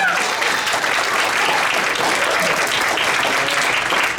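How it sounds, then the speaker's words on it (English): Dense, sustained audience applause at a university LGBTQIA+ consortium launch event at CUNY, steady and loud throughout with no pauses. "another round of applause for Vice Chancellor Maybank"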